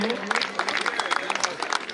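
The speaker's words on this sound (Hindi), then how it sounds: "जोरदार ताली बजाइए बच्चों के लिए।" Children applauding at a school prize-giving: a brisk burst of many hands clapping, fairly close and continuous for a couple of seconds.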